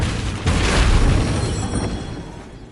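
A Confringo fire spell bursts in Hogwarts Legacy, a single loud blast with a boom that swells and then trails off into a rumbling decay.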